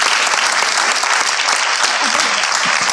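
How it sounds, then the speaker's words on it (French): An audience breaks into lively, continuous applause, dense clapping filling the whole moment at close range with a faint voice underneath. "On peut encore les applaudir, sans aucun problème"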